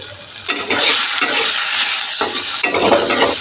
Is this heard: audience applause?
no